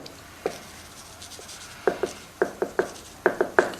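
Chalk or marker tapping and scratching on a board during a maths lesson on matrix transposes, a scatter of short, crisp strokes growing denser toward the end, close by with no talking.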